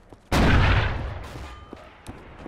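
A single loud gunshot blast in a World War II multiplayer shooter, sharp onset followed by a long decaying boom and echo, close and alone.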